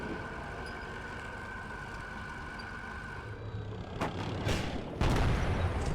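Tanks trading fire in a WARNO battle between Chinese and US armour, a low rumble of engines giving way to two or three heavy booming shots near the end.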